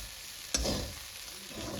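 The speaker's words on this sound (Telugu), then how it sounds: "మంచిగా అడుగంటుకోకుండా వేయించుకోవాలి." Uggani, a puffed rice dish, frying in a pan with a steady broadband sizzle and one brief louder stir or clatter near the middle, heard up close with no voices.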